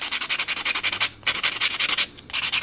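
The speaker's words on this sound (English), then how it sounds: "now I'm going to take my buffing block" A well-used buffing block rubs steadily back and forth over gel nail tips, making a close, rhythmic scratchy swish that pauses briefly twice before resuming, with no speech.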